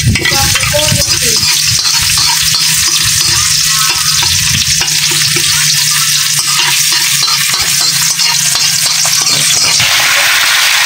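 Chicken frying in a pan, loud continuous sizzling with bursts of popping oil and occasional stirring scrapes, close up and steady throughout with no talk.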